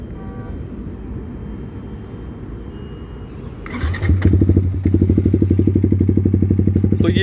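A Yamaha R15 V4 motorcycle with a carbon fiber SC-Project exhaust starts up and settles into a loud, steady idle with a rapid rhythmic exhaust burble, close to the microphone.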